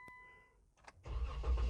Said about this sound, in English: I can start the car in neutral